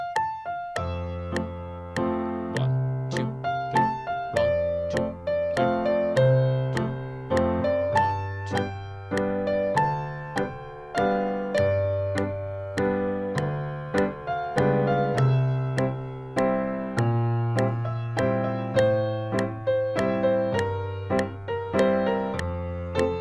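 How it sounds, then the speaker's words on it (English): Piano chords of a tune sound together with the melody line in a reharmonized arrangement, with steady rhythmic chord strikes continuing throughout under the tune, with no voices. "I'm just going to play the chords and have the melody played for me."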